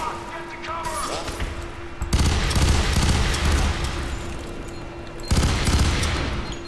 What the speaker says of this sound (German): Boah, die schießen so gut.